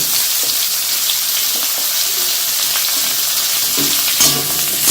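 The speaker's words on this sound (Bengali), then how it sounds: "আলু যেগুলো একটু ভাজতে টাইম লাগবে সেগুলো আমি আগে দিয়ে ভেজে নেব" Potatoes fry in hot oil in a pan after cauliflower for navratan korma. The sizzle is a loud, dense, unbroken hiss, close up, with no talking.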